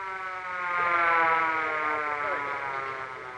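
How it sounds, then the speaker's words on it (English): An ambulance siren wails loudly and steadily, swelling up and holding its tone for a few seconds with no talk over it. "What's that? Ah, it's just an ambulance."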